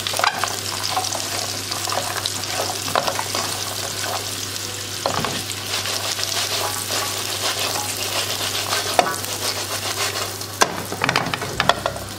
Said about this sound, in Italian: Adesso andiamo ad inserire all'interno della padella le orecchiette fresche. Do una mescolata.